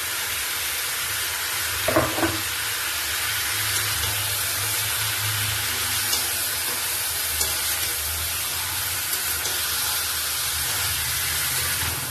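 Mutton stirred in hot oil with ginger, garlic and green chili paste for a mutton curry, giving a steady close sizzle and hiss of frying with a few scraping stirs near the start, no talk.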